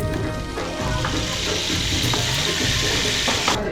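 A rotated stick instrument at a Bangalore studio attraction gives a continuous rushing, water-like wash, like a flowing river, steady and fairly loud, with background music faintly audible beneath.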